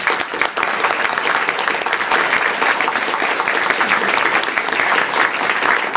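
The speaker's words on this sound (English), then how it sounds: "could we have one more round of applause for our candidates who all did such a splendid job" Sustained applause from an audience at an all-candidates event, steady dense clapping filling the room without a break, fairly loud and even throughout.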